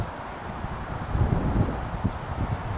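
Outdoor wind gusting against the microphone during atlatl arrow practice, a steady low rumble with brief rustling swells and no talking.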